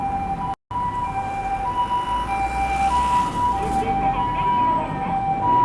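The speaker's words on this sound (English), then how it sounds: "Japanese ambulance." A Japanese ambulance siren wails steadily while passing along a cold night street in Osaka during the Christmas lights season, its repeating tones loud over constant traffic rumble, with a brief dropout near the start.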